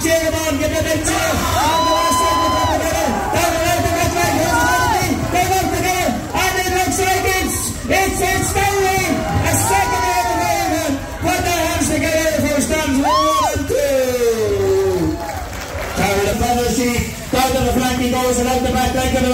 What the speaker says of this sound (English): Cheer him on, give him a big cheer.